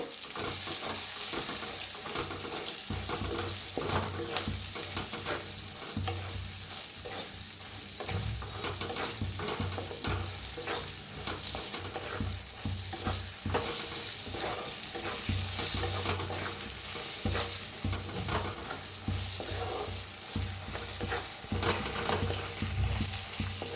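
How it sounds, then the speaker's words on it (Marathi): Green chillies and coarsely crushed peanuts roasting in a pan with turmeric and salt: a steady, close crackling sizzle with frequent scraping stirs that runs continuously without a break. "आता मिरची शेंगदाणा छान असं भाजलं"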